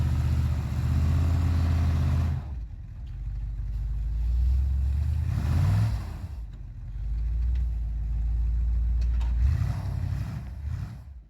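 A car engine drones steadily and loudly close by, rising and easing off a few times as it labors pushing another car bumper to bumper with tires as a cushion.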